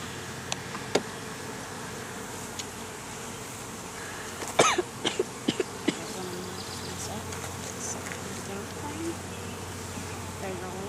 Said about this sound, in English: There's a lot more bees on this one.